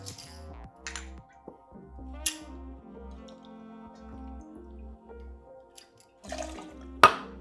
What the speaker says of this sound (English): We're gonna do 2 ounces of gin. I'm using Beefeater.